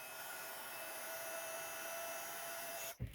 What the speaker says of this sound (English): And then I'm going to heat emboss it in gold.